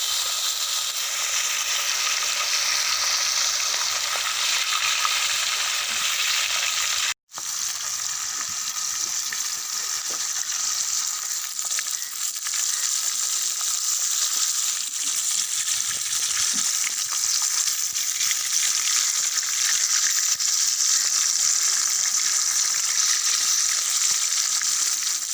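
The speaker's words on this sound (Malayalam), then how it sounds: "അപ്പോൾ നമുക്ക് അടുത്ത മീൻ ഇട്ട് കൊടുക്കാം" Fish fillets with bird's eye chilli sizzle steadily in hot oil in a pan, a bright continuous frying hiss that runs unbroken except for one brief dropout, with no talking.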